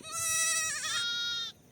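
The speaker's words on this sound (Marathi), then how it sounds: "हे बघा इथं लहान लहान पिल्लं आहेत शेळ्यांची" A young goat kid in a pen at a shepherd's grassy grazing camp gives a single loud, close, wavering bleat that lasts about a second and a half, then stops.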